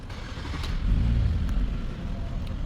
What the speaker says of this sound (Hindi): ये गाड़ी को करते हैं स्टार्ट